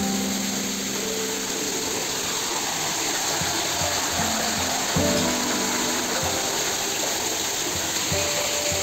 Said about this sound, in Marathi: पाण्याचा वॉटरफॉलचा जो आवाज आहे तो ऐका मस्त वाटतं बघा.